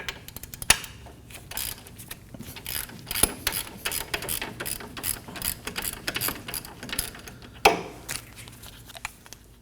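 A ratchet with a 17mm socket clicks in rapid bursts, loosening a caliper bracket bolt on a 2011-2016 Kia Optima front steering knuckle; close, busy mechanical clatter with brief pauses and a sharper clack near the end.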